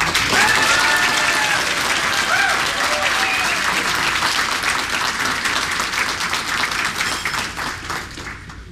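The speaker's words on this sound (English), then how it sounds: "she does deserve a big round of applause" Sustained audience applause fills a breakfast event honouring county employees, steady and full for several seconds before gradually thinning out, with a few voices faintly mixed in near the start.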